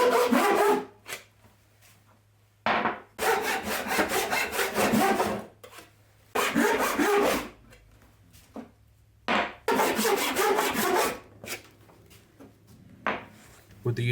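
Long rhythmic hand-saw strokes cut cherry wood utensil blanks to length, coming in bursts of rapid back-and-forth rasping with brief pauses between cuts, close and fairly loud.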